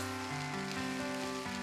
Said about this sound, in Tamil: இந்த இன்கிரீடியன்ஸ் எல்லாமே நல்லா மிக்ஸ் ஆகிற அளவுக்கு நம்ம வதக்கிக்கணும்.